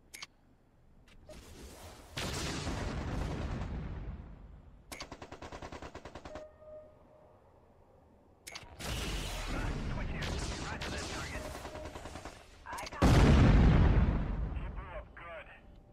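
Turret guns in the MechCommander 2 night raid mission fire in repeated loud bursts of rapid shots, with short pauses between volleys and one heavier blast near the end.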